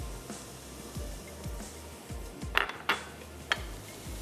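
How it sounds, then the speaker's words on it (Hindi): A whisk beats a custard cream mixture in a bowl with quick rhythmic strokes, each one a soft scrape, plus a few sharp metallic clinks against the bowl, close and fairly quiet. "विस्क लेते हैं और इसकी मिक्सिंग कर लेते हैं"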